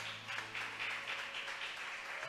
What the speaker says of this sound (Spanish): ¿Cuánto le dan un aplauso grande al Señor, hermano?